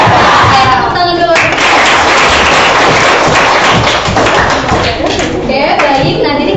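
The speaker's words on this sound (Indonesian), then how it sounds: "Oke, tepuk tangan dulu." A classroom of children claps hands together in a loud, dense burst close to the microphone, with young voices and shouts mixed in.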